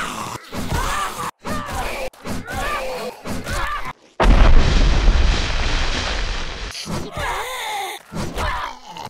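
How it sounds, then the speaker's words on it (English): A bomb detonating in the zombie survival game 7 Days To Die, set in a corn maze: a loud, booming blast with a rumbling roar lasting a couple of seconds, set between bursts of groaning and sighing voices. "my bomb came in handy, took that guy's leg off"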